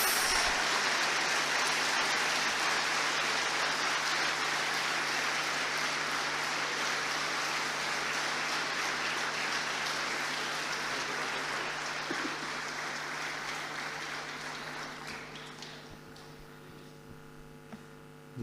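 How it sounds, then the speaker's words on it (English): An audience welcomes Dr. Jaishankar with sustained applause, a dense wash of clapping in a large hall that holds steady and then slowly fades as it dies down. "Join me in welcoming Dr. Jaishankar with a very big round of applause."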